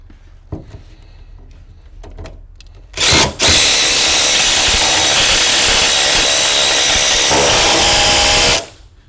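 A few clicks and clatter, then a loud impact driver whirs continuously for about five seconds at close range, bolting down a gun safe, before stopping abruptly.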